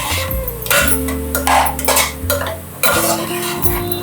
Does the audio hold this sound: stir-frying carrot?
yes